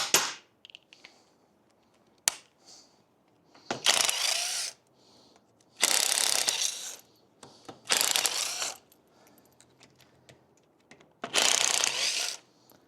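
A small impact gun breaking loose motorcycle engine bolts, with repeated loud rattling bursts of about a second each, separated by pauses and clicks, close up in a workshop.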